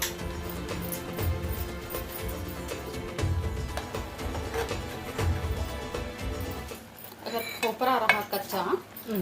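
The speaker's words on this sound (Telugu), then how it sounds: "అన్నం కలపడం కూడా వదిన ఎట్లా కలుపుతుందంటే ఎంత జెంటిల్గా కలుపుతుందో చూడండి" Cooked basmati rice for Hyderabadi meetha khana being gently mixed in a metal pot, with soft repeated scrapes and clinks of a spoon against the pot, fairly close and continuous, with a brief muffled voice in the background.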